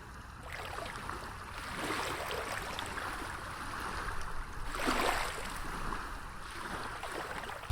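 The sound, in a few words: waves crashing at the beach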